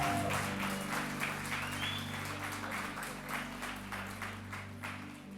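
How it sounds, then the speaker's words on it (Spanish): A church congregation claps in applause during a worship service, a fairly soft, steady patter of many hands that slowly fades, with a low musical drone underneath. "Denme un aplauso de ánimo."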